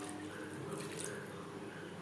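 Spiced water poured into a cooking pan of fried-down spices for stuffed pointed gourd malai curry, giving a steady splashing, trickling liquid sound throughout, close and fairly quiet, with no talking.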